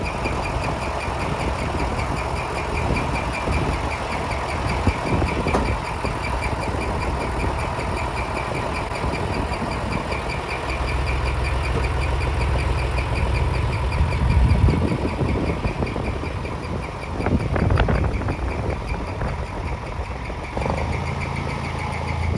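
A tractor engine idles steadily at a medium distance after hauling a load with a homemade crew cab Ford, a continuous low rumble with slight knocking and vibration and some fluctuation toward the end.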